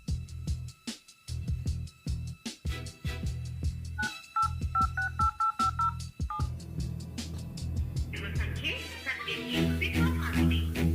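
A phone keypad is dialed, giving a quick run of short touch-tone beeps in the middle of the stretch, between thumps and other background sounds, before a denser tonal sound takes over near the end.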